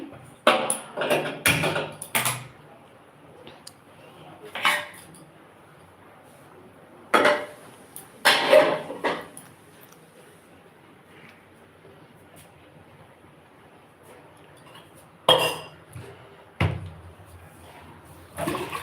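Rice washed in a metal pot, with intermittent bursts of scraping, clinking and swishing water, loud and close, separated by quiet gaps.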